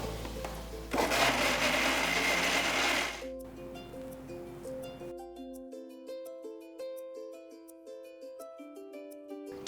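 A blender grinds shallots, green chilies, garlic and ginger into a masala paste for Dindigul mutton biryani, roaring loudly for a few seconds, then slowing and stopping, while gentle background music continues.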